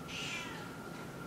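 A pet cat meows in a home, one drawn-out, fairly loud call near the start that tails off into soft room noise.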